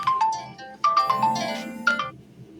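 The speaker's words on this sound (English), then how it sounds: "sorry about that, I only get phone calls when I'm recording." A phone ringtone goes off during an indoor recording: a melodic electronic tune of repeated bright tones, fairly loud and close, lasting a couple of seconds before cutting off.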